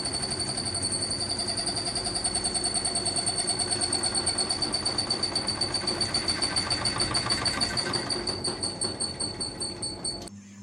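A front-loading washing machine runs through a spin during a vibration test, a steady mechanical whir with a rhythmic thumping pulse that builds and quickens toward the end, close and continuous with no talking.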